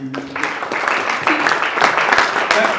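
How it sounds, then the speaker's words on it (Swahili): Applause from an audience at a Kenyan alumni association launch breaks out in sharp, uneven bursts of clapping, while voices and crowd murmur mix underneath, fairly loud and close. "Tupigie county makofi."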